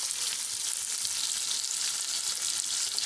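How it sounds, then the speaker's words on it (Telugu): Chopped onions, green chillies and a little fennel seed frying in oil in a pan for a meal maker curry, a steady close hiss and sizzle throughout with no voices. "ఆనియన్ గోల్డ్ కలర్ వచ్చేవరకు ఫ్రై చేసుకుందాము"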